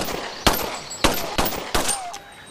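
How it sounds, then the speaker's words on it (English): Four sharp gunshots from a regular gun in the game Resident Evil 2, loud and close, spaced roughly half a second apart, each with a short ringing tail. "Now, when it comes to shooting, it's decent."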